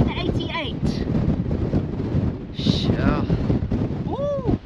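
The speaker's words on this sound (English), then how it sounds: "That's windy and it's cold." Cold wind gusts across a high lookout in the Karoo, buffeting the microphone with a constant roar while several people talk over it.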